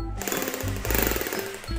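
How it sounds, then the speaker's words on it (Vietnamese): An electric hammer drill running in hammer mode, a steady rapid pounding rattle close by with the motor pitch rising and falling as the trigger is varied. "Test chức năng khoan búa."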